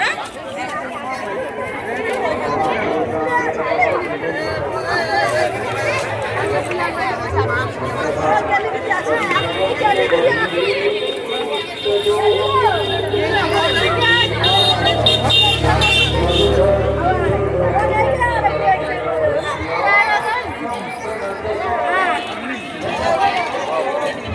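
Dense crowd chatter fills a busy market outside a Shiva temple, many voices overlapping at a steady, loud level with occasional vehicle horns and engine rumble passing nearby.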